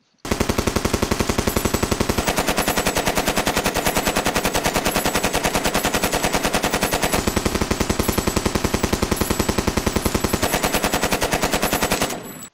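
Loud, nonstop automatic gunfire from a video game shooter, a rapid even stream of shots lasting about twelve seconds, close and dominant with no talk over it.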